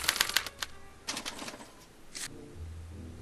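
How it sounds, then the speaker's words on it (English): A special typewriter in the Back to the Future video game rapidly clatters out a burst of sharp mechanical strikes while printing a punch card, then a short pause, another cluster of clacks and a final whirr, close and clear. "they're relayed to this special typewriter, which prints out a punch card that represents the subject's mind map"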